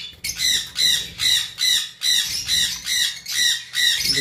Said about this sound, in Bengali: উপরে আমাদের কাছে একটা ব্লু কোনোর রয়েছে